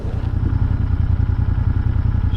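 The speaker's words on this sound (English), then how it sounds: "Not sure how much you can hear the exhaust" A 2023 Royal Enfield INT650 motorcycle engine thrums with a steady, pulsing low exhaust note while riding, moderately loud with a faint clatter on top.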